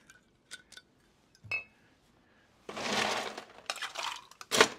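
Glass and ice clink while cognac and Cointreau are combined for a sidecar cocktail, starting with a few faint, scattered taps and clinks, then building into a louder, rattling burst of pouring and clattering.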